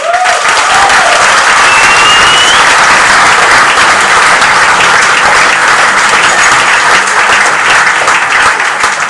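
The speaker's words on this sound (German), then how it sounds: "Applaus!" Loud, dense audience applause at a comedy show, a steady wash of many hands clapping that fills the whole stretch without letting up, with a brief whistle rising above it.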